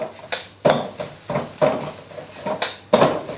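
A metal spatula scrapes and clanks against a wok while egg fried rice is stir-fried, striking in a steady rhythm of about eight sharp, close knocks over a few seconds.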